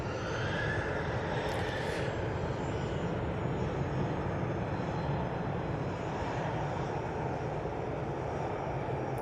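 A Mitsubishi airliner's engines roar steadily at Manchester Airport, a continuous broad rumble heard from a distance with no speech.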